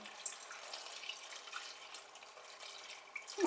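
Water pours into a pot of dried mushrooms at home, giving a soft, continuous trickle and splash that stays faint and close and stops abruptly at the end.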